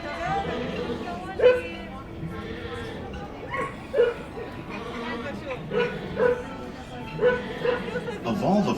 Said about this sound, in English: Pluto is playing with the dog.